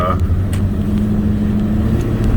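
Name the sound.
truck pulling heavy steel trailer with water tank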